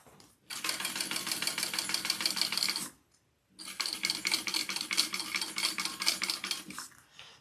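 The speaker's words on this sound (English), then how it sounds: "I'm going to sew on my 2 side panels first, and then I'll flip it and do the other" A domestic sewing machine stitches side panels of a garment in two long, rapid bursts of clattering needle action, separated by a short pause, close and unaccompanied by talk.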